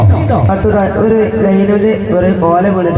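A performer's voice imitates the crackling, buzzing short circuit of a palm leaf falling onto an electric power line, a loud continuous vocal rasp held for about three seconds on stage at a panchayat silver jubilee gathering.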